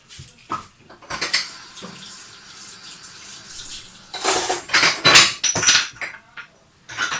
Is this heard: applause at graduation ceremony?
no